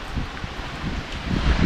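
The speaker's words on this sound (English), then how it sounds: "ooh, the wind's come back slightly" Wind gusting outdoors beside a dam, a steady broadband rush with low rumbling buffeting against the microphone, no voices.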